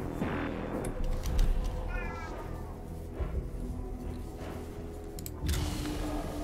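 A house cat meows a few times nearby, short and fairly clear, against a backdrop of game sounds from Warhammer 40k Mechanicus.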